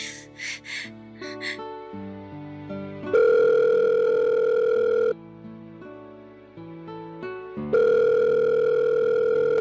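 A cellphone dial tone and call tones play while a call is placed, loud steady tones alternating with short melodic keypad beeps, with no talking.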